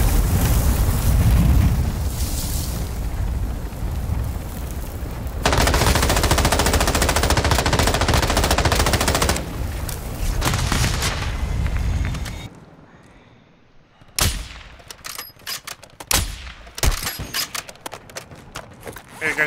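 Video game firefight with long machine-gun bursts and heavy rapid fire, loud and close, easing into scattered single shots near the end while players talk over it.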